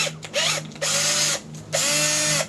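Cordless power drill spinning a headless wood screw in short bursts, whining up to speed three times with brief pauses between, close and loud with no talk.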